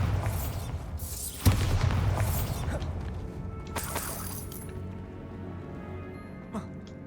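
Bombarda blasting spell in Hogwarts Legacy: a single sharp crack-and-boom early on, followed by shattering debris and a fading rumble, with smaller clatters afterward.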